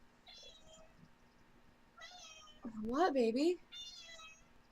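A female cat meows loudly and close by with a wavering, whiny call lasting under a second, while someone talks softly just before and after.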